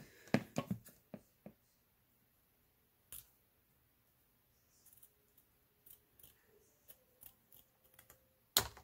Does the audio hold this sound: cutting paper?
yes